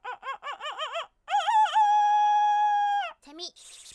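A human voice imitates a rooster, starting with rapid clucking notes, then a long drawn-out crowing call, close and loud, ending with a squawk.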